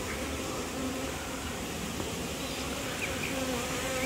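A honeybee infested with varroa mites buzzes steadily and close by for the whole stretch, a continuous droning hum.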